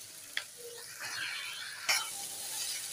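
Boiled spaghetti stirred into rice sizzling in a pan, with a soft sizzle under scraping strokes of a spoon and two sharp clinks against the pan, heard close.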